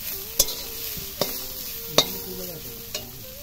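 Egg chowmein frying in a pan under a constant hiss, punctuated by four sharp spatula strikes spaced roughly evenly against the metal.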